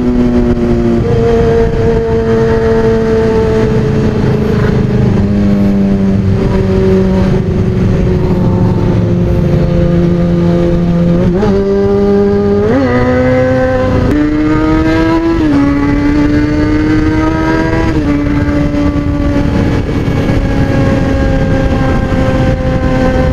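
A Yamaha R1 motorcycle engine revs continuously and loud, pitch climbing and dropping through repeated gear shifts and throttle bursts, with no talking.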